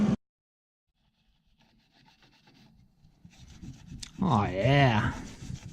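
A rag rubs oil off a bolt on an LS exhaust manifold, a brief close scrubbing that comes after a long quiet stretch and a short voice at the start.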